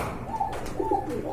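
A large domestic pigeon coos in two short, soft phrases, close by against a low background hum.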